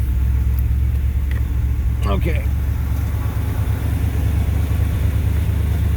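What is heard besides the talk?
car engine catching and idling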